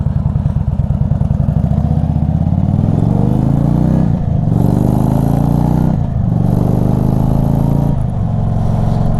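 Indian Super Chief Limited motorcycle with an aftermarket air intake and stage 1 tune, loud and close, idling with a throbbing beat and then revving up twice as it pulls away through the gears.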